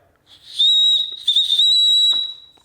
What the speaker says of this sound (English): It's a kind of cheesy whistle and it feels a little cheap in hand.